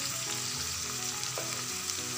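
Potatoes and bell peppers with spices sizzle steadily in hot oil, a dense continuous frying hiss with no voices.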